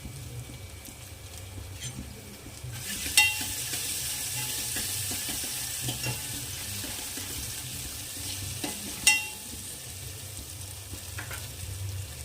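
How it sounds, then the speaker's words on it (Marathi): Ginger-garlic paste and turmeric hitting hot oil in a pan, with a steady loud sizzle that swells as the paste goes in, plus a few sharp spoon scrapes and clinks, close up. "हे अद्रक आणि लसणचं असं बारीक पेस्ट करून ॲड करायचं आहे तेलामध्ये आणि हळद टाकायचं आहे"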